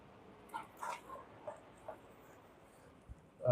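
A property-guarding dog lets out a handful of short, fairly soft barks and yips at people walking by, spaced irregularly, followed by a louder sound at the end.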